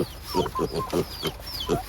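A chicken clucks in a rural farm setting, a quick run of about eight short, close clucks in an uneven rhythm with no talking.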